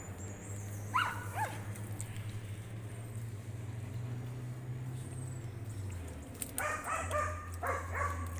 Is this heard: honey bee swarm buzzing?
no